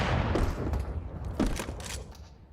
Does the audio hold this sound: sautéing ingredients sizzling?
no